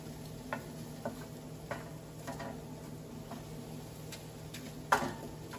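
A spoon stirs roasted carrots, beets and onions in a pan, making a series of light, separate scraping clicks spaced irregularly, with one sharper knock near the end, over a quiet steady background.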